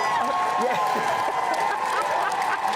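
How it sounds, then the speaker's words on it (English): Applause from a live carnival audience, a steady, dense wash of clapping throughout with overlapping voices and cheers mixed in. "Big round of applause."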